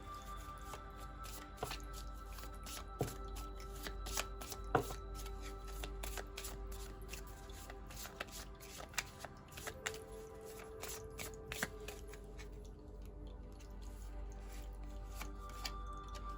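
Tarot cards being shuffled by hand, a soft continuous papery riffling with scattered light taps and snaps, close and quiet throughout with no talking.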